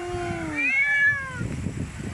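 A cat with a shortened tail gives one close, drawn-out meow, rising and then falling, followed by soft low rustling.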